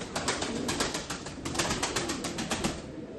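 A roller pigeon, a 14-tailed male, coos and flutters close by in a rhythmic run of repeated bursts, with a soft background hiss between calls.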